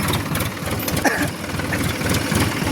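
A tractor engine idles nearby with a steady, rough mechanical rumble that holds constant throughout, with no talking over it.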